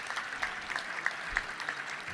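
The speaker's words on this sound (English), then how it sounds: "Let's give a round of applause for that at the end." Audience applause at the Little Rock Touchdown Club luncheon talk by football coach Dan Mullen, a steady dense patter of many hands clapping through the whole stretch, moderately loud and fairly close, with no voices over it.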